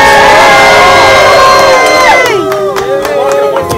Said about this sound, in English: Come on, let's get that applause going.